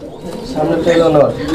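A pair of Jharna Shari pigeons, a breeding male and female, coo softly and steadily at close range, layered under a voice talking over them.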